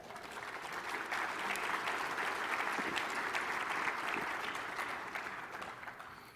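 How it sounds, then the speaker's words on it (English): A conference audience at an aerospace science and technology gathering claps in a sustained round of applause that swells, holds and then tapers slightly at the end. "Give yourselves a big round of applause."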